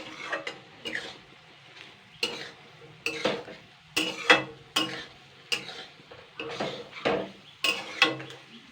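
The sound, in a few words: stirring banana flower mixture in a pan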